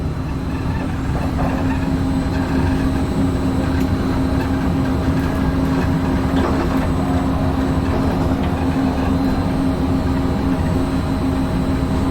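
A Disney monorail runs along its track toward the Tomorrowland station, heard from the cockpit as a steady, loud rolling rumble with a constant motor hum that continues unbroken throughout.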